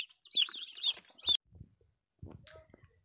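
Chickens on a farm cluck and squawk close by in a busy burst, then fall quiet before a few softer clucks and a brief flutter follow.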